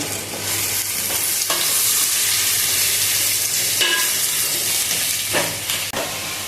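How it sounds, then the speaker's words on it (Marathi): Four large quartered onions frying in hot oil until golden brown for chicken biryani: a loud, continuous, hissing sizzle close up, with a few spoon scrapes and clunks breaking through, and no talking. "आता चार कट केलेले मो मोठ्या साईजचे कांदे आपण गोल्डन होईपर्यंत फ्राय करून घ्यायचे गोल्डन ब्राऊन होऊ द्यायचं"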